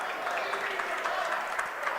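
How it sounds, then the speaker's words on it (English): Clapping from the sidelines of a high school varsity boys wrestling match in a gym, rapid and steady under crowd murmur and indistinct talking. "Coach Eckert clapping over there, recognizing Woolery's effort."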